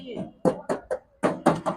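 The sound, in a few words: knocking on the door of a Suzuki Carry van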